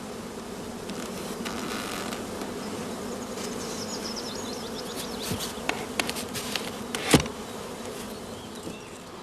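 Honeybees hum in a dense, continuous drone at an open beehive, close and steady throughout, with a few sharper buzzes of individual bees passing near the microphone and no talk.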